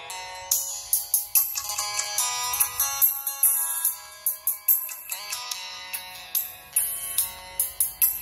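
Onkyo loudspeakers play back music in a test: a bright, chiming, ringtone-like melody of repeated plucked notes, fairly loud and close, with no talking.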